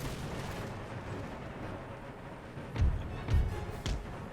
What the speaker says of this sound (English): you can't be serious that you're still firing towards the King's Royals